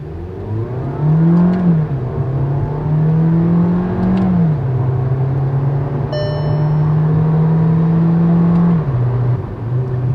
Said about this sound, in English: And now listen to the engine.